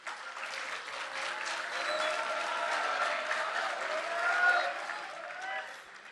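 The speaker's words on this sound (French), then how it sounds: "vous pouvez les applaudir" Applause from a conference audience, a dense steady wash of clapping that swells slightly toward the end before easing off, with no voices over it.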